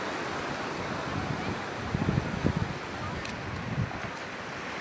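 Sea waves wash onto the shore at Nagoa beach in Diu as a continuous broadband roar mixed with wind rumble, and a few faint voices sit under it.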